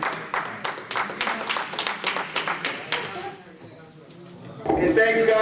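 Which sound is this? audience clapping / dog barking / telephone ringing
audience clapping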